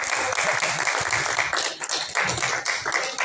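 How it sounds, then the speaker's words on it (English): Audience applause at an indoor talk programme with a guest speaker, a dense, steady patter of many hands clapping throughout, fairly close and without pause. "Round of applause, please."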